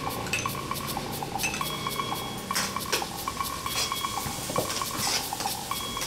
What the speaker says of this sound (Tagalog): Igigisa ang bawang at sibuyas.